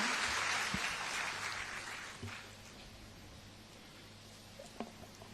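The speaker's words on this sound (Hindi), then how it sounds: "तालियों की करतल ध्वनि से हम स्वागत करते हैं माननीय श्री अमित शाह जी का" An audience at a foundation-stone ceremony for a forensic university in Assam applauds to welcome Amit Shah, the clapping strongest at first and then thinning and fading into quiet, with a few scattered claps lingering.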